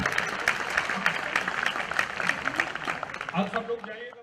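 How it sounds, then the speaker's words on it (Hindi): At an evening children's film festival, an audience claps for young performers: a dense, lively round of applause with a voice over the crowd near the end as the clapping thins. "जोरदार तालियां बच्चों के लिए"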